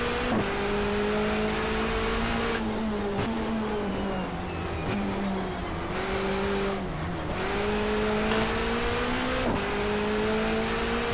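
Touring car engine in the GTR2 video game, 1994 Asia-Pacific championship, with repeated rises and drops in pitch as it revs and downshifts into second gear, with brief tire squeals.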